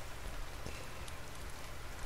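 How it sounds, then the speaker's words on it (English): Steady rain falls in the survival video game The Forest, a soft continuous hiss of drops with no distinct individual hits, heard alone at a fairly low level throughout. "Maybe raining in this beautiful day"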